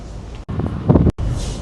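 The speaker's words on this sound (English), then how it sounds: "It's windy and rocky out here." Steady wind rushing and buffeting past the microphone outdoors on a cruise ship deck, with short gusty bursts and no talking.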